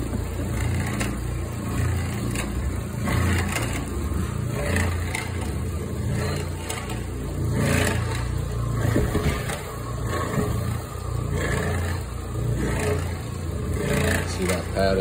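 A 175 RPM floor buffer runs continuously during a move-out cleaning, giving a steady rumbling motor drone with some scraping, while a person talks over it.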